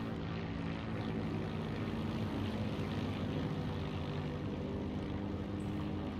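Curtiss O-52 Owl propeller plane engine in the Heroes & Generals video game drones steadily and loudly throughout, a constant throbbing hum with no voices.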